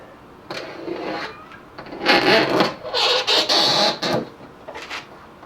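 A bamboo stick gouges and scrapes across a coated panel in a durability test. Several loud, rough scraping strokes bunch together in the middle, with fainter scuffs before and after.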